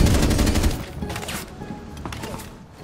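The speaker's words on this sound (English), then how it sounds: "Why are you shooting through the ground there," Rapid automatic gunfire from the first-person shooter Rainbow Six Siege, a loud close burst of shots up front that gives way to scattered fainter shots and game noise.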